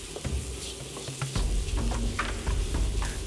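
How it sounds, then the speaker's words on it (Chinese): Minced lean pork is stir-fried over low heat in a wok, giving a soft, continuous sizzle broken by repeated scraping and stirring strokes from a spatula. "必须又要火小小的炒"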